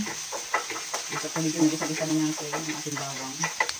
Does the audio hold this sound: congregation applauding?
no